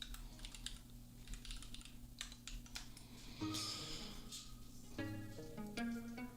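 Rapid bursts of keystrokes on a computer keyboard while a search is typed, quiet and close, set against a low steady hum and some faint tonal sounds, with no talk.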